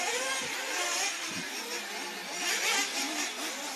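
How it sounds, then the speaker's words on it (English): Several 1/8-scale off-road RC race cars at a European championship finals, their small nitro engines screaming and buzzing at high pitch, overlapping and shifting in pitch as they rev, moderately close, with no talking. "underneath me, I can hear a couple of other cars taking early stops"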